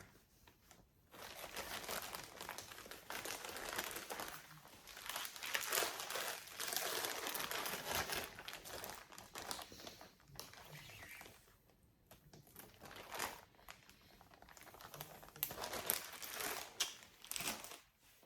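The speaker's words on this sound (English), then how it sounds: "A little bit of crinkling while I put them back in the bag." Plastic bag crinkling and rustling as embroidery floss skeins are handled and slipped back inside, a close, irregular run of crackly bursts with brief pauses, alone without talk.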